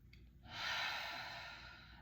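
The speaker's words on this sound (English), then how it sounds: "You take a deep breath in." A slow, deep breath drawn in and let out through the nose and mouth, soft and close, rising to a broad airy rush and then fading gently, heard alone in a quiet room.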